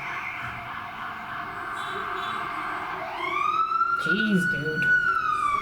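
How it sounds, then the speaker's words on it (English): A wailing siren rises and sweeps over steady background noise, growing louder toward the end while a voice speaks briefly. "I think the siren's confirming."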